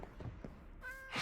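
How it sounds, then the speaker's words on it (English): A Minecraft cat in the ATM9 Skyblock modpack gives a short, close cry that ends in a sharp breathy hiss, all within about a second. "The cat sounds like it's hissing!"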